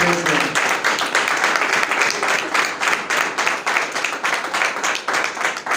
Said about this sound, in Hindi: आइए जोरदार तालियां खुदावंद के जलाल के लिए गुजारते हैं।